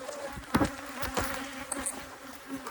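Honey bees from a swarming hive buzz close around the listener, a layered drone with individual bees zipping past loudly in sharp passes, no voices.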